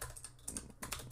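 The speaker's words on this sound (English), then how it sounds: "Mechanical keyboard." Rapid clicking of keys on a mechanical keyboard, with bursts of keystrokes close up and no voices over them.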